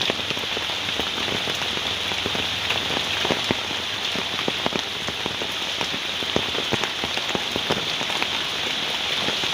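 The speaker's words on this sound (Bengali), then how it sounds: "এইভাবে বৃষ্টি পড়ে আছে ভাই" Steady, heavy rain pours down continuously in Assam, with dense drops pattering loudly on surfaces throughout and no voices.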